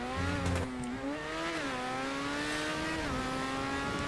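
Formula 1-style R88 race car in GTA 5 Online, a steady high engine whine rising and dipping through gear shifts as it speeds along, loud and continuous with no talking.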